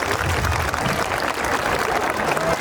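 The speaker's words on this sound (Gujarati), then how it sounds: "હજુ એકવાર વિદ્યાર્થીનીઓ માટે તાળીઓનો ગડગડાટથી વધાવી લઈશું." Audience at a school annual function applauding students, a close, dense burst of clapping from many hands held at a steady level for a few seconds.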